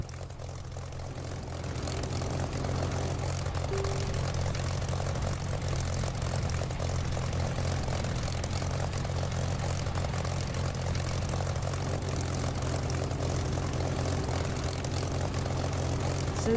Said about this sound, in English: the engine sound in this is not the DCS Spitfire engine sound. It's a sound manufactured by Echo 19